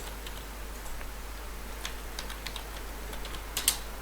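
Quiet, rapid taps on a computer keyboard as code is typed, an irregular run of soft clicks over a low electrical hum, with one sharper keystroke near the end.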